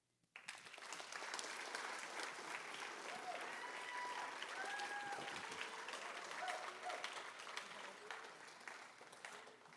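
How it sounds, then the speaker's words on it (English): Applause and cheering at the Jewish Federation of Greater Indianapolis annual meeting: sustained crowd clapping rises almost at once and carries on steadily, with voices and a few whoops mixed in. "Because Miriam and I have big ideas, and we need you all cheering for us like you're going to cheer for the Pacers."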